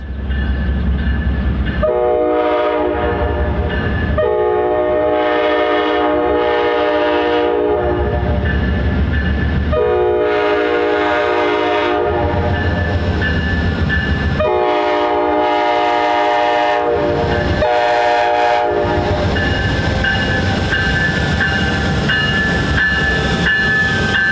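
A train led by ex-CN SD60F cowl locomotives rumbles past loudly with rhythmic clacking wheels while its horn blares in several long, chord-like blasts, including a final short toot.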